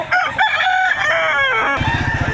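Roosters crowing at a poultry market in Batangas, Philippines, one loud nearby crow stretched over a couple of seconds with other birds overlapping and clucking around it.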